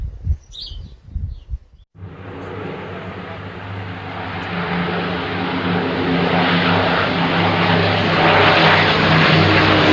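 Propeller engines of a Lancaster bomber in flight at a special event, a loud steady drone that rises after a brief noisy start and holds for the rest, with no talk over it.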